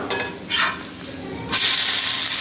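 Ragi flour and sago flatbread sizzling in a hot pan, with a close, steady frying hiss that swells in two brief bursts and then settles into louder continuous sizzling.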